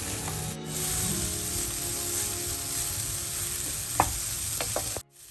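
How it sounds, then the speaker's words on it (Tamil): Grated coconut dry-roasting in a hot pan for a sardine theeyal, with a steady scraping, rustling stir and a few sharp clicks of the utensil against the pan, close and continuous. "ஒரு கைப்பிடி அளவு தேங்காய் எடுத்திருக்கிறேன். அதை முதல்ல வறுக்க போறேன்."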